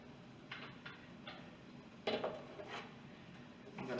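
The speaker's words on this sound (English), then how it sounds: "We're going to open up the pot." A pressure cooker lid being opened after the pressure is released, with a few soft metallic clicks and a louder clatter near the middle, close by in a quiet kitchen.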